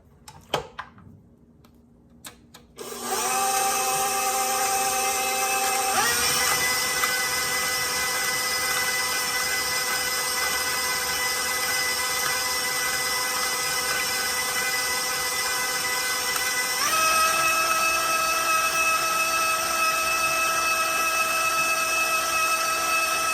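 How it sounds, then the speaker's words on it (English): An electric stand mixer starts up after a few quiet seconds of handling and then whirs steadily as it beats potatoes, its motor pitch stepping up twice as the speed increases, loud and continuous to the end. "we're gonna stick that in the mixer"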